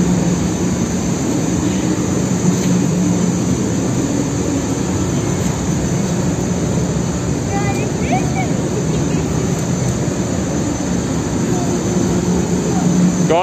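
A Honda PS150i scooter engine runs steadily throughout, a loud continuous drone with a rough low rumble and no clear breaks or revving.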